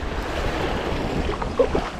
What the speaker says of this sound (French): le vent me pousse